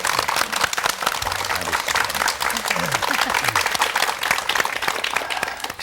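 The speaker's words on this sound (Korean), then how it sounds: "여러분 아주 따뜻한 박수로 좀 환영해 주시지 않으시겠습니까?" Warm studio audience applause on a Korean broadcast talk show, dense steady clapping from a large crowd filling the room at close range, with a few brief voice fragments mixed in.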